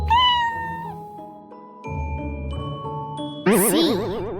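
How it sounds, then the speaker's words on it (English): A cat gives a clear, close meow at the start over a bright children's alphabet song music bed, followed by more tinkling musical tones. "C is for cat."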